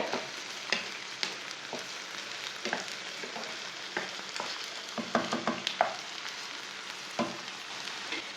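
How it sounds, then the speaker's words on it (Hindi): Sliced onion and okra fry in an oily pan for a bhindi dish, giving a steady close sizzle with occasional stirring scrapes and pops throughout, no voices. "तीन मिनट तक मैंने प्याज और भिंडी को"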